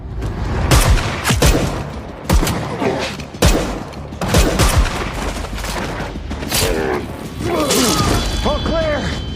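Gunfire in an action film fight scene, a series of sharp loud shots and heavy impacts in bursts, with someone speaking over the mayhem.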